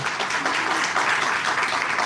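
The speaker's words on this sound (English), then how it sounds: "can we give her a round of applause?" A group applauds a woman after a difficult personal talk, a short burst of dense, even clapping from many hands with no talking over it.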